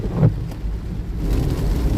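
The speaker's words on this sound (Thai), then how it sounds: "ฝนตกไม่หยุดเลยครับท่านผู้ชม" Steady rain pours down during a day of flooding in Kalasin province, Thailand, making a continuous broadband hiss that grows fuller in the second half, with a low rumble underneath.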